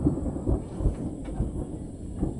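Rumbling thunder rolls continuously ahead of rain, a low, heavy, distant-sounding roar with a few swelling peaks and no voices.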